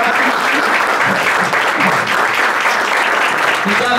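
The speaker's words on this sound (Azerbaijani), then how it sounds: "Nigar xanıma alqışlar" Dense, steady audience applause fills a poetry evening hall in honour of Nigar, many hands clapping together loudly and continuously for about four seconds with no pause.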